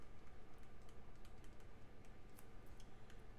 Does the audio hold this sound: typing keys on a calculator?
yes